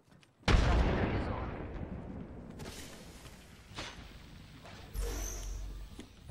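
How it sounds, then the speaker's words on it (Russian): Frag grenade exploding in Apex Legends: a sudden heavy boom that rolls into a long decaying rumble, with further distant gunfire and a second thump later amid the firefight. "Кидаю осколочную"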